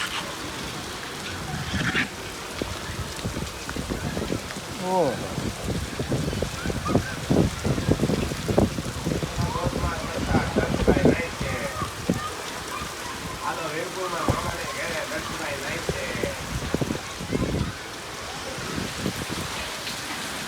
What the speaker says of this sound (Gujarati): વાવાઝોડા સાથે વરસાદ